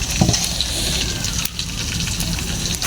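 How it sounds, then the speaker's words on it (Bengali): Lentil dal is tempered with hot oil, giving a loud, continuous sizzle and crackle close by with a brief dip midway, and no talking. "এখন হচ্ছে ডাল বাগার দেবো।"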